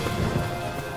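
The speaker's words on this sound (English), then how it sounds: "Shelter from the rain, sir." Steady rain pours down during a cartoon storm, a dense even wash of falling water with a low rumble of thunder beneath it and no voices.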